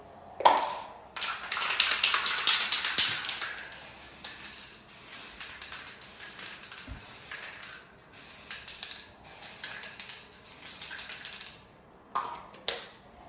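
Spray paint hisses from an aerosol can onto a bathroom vanity mirror mount in bursts of several seconds each, with short pauses and a few clicks between passes, loud and close.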